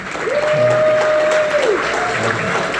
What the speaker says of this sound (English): I guess a little clapping is okay for each one